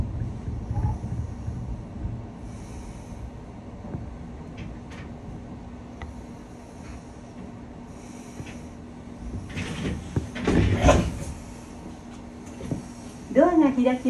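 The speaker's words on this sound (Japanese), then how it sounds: "ドアが開きます。 ご注意ください。" Train doors open at a brief stop at 市民公園前 KG9 station: a burst of mechanical and pneumatic noise near the end follows a steady low rumble of the carriage, with faint wind noise throughout.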